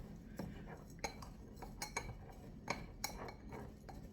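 Spoon clinks and scrapes against a bowl while ingredients including chia seeds are stirred together, irregular light taps and chinks in a quiet kitchen.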